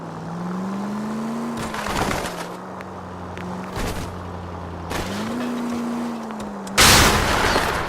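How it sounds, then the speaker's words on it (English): Gunfire in the LA Noire video game during a police chase, several sharp shots breaking over a steady car engine drone, with a loud burst near the end. "Shots fired. Officer needs help."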